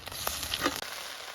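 Shrimp fry lightly in hot oil in a pan, with onion paste about to go in. A quiet, even hiss of sizzling carries on throughout, broken by a few faint crackles.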